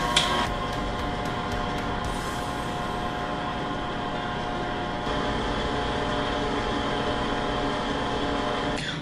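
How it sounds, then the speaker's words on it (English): A stand mixer runs on low, mixing flour into cupcake batter with a steady, even motor whir and hum that carries unbroken throughout. "And now I'm just gonna mix the flour in on low until it's just"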